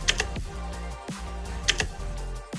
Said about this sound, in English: There are 8 physical buttons on the central part with all the controls. They're so nice to touch, and they click as if you're typing on a mechanical keyboard